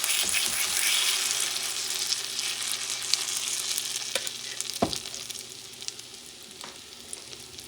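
Hoe cakes made to an old 1700s recipe frying in a pan over medium-high heat, a bright continuous hiss with scattered pops and one louder knock of utensil on pan.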